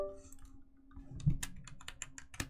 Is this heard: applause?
no